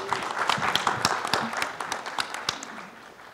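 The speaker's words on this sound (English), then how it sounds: "Give him a round of applause." Audience applause at a software developers' conference session, a burst of many hands clapping close and steady for a few seconds, then tapering off slightly.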